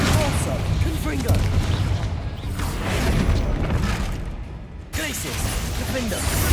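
Fiery Confringo spell blasts in Hogwarts Legacy, a string of booming bursts and crackling impacts amid dense game effects, with a loud burst near the five-second mark and talk audible underneath.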